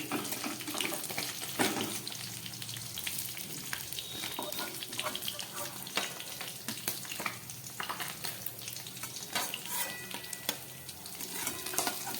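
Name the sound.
fish frying in oil on low gas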